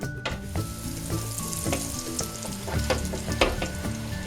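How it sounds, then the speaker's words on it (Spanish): Chicken croquettes deep-fry in olive oil in a fryer at 170 degrees, giving a steady, close bubbling sizzle with crackles and pops throughout. Faint background tones sit beneath it and no one speaks. "Yo las voy a freír en una freidora a 170 grados con aceite de oliva."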